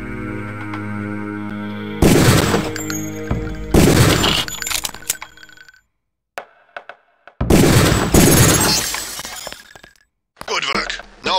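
Gunfire and shattering glass targets ring out in the Deus Ex PC training area, with loud, crashing bursts separated by short silences and a final sharper burst at the end.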